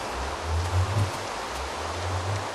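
Steady soft rain hiss in the Minecraft video game, a faint continuous wash of noise with no voices over it.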